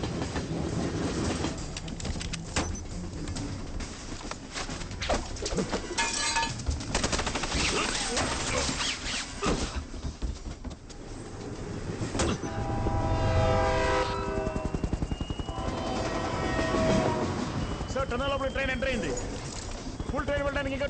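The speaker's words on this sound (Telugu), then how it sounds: "ఫుల్ ట్రైన్ వెళ్ళడానికి ఇంకా 20 సెకండ్సే ఉంది." A train thunders through a tunnel in an action movie scene, a continuous heavy rumble with horn blasts, overlaid by rapid gunfire bursts, dramatic music and shouting voices.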